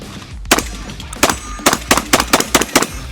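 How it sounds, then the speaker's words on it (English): Rapid handgun shots ring out outdoors, about eight sharp, loud reports coming in an uneven run, several fired close together near the end. "Try firing one at a time like a normal person."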